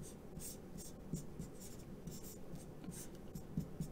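A pen scratches out Chinese characters by hand in a quiet room, making soft, steady strokes and taps close to the microphone over a low background hum.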